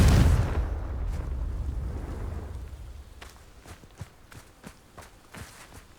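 Confringo fire spell in Hogwarts Legacy bursting into dry vines, a loud low whoosh and roar at the start that fades into crackling, followed by scattered footsteps.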